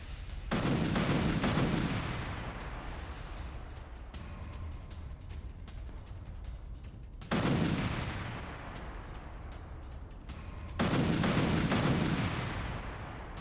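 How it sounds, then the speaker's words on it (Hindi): Three heavy IED blasts on a Hamas base at intervals, each a sudden loud boom with a rumbling decay, separated by sustained low rumble. "आईडी के जरिए हमास के बेस पर धमाका।"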